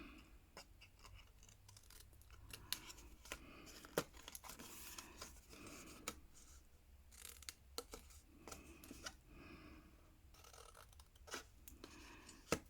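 Small paper tabs snipped at an angle with scissors while assembling an explosion box, a run of quiet, crisp snips and paper rustles scattered unevenly throughout, close and soft.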